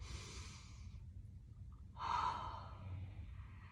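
Breathing during a Humble Warrior yoga flow, one soft exhale followed by a stronger, audible breath after a short pause, close and quiet with no talking.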